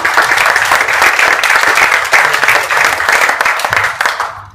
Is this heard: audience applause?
yes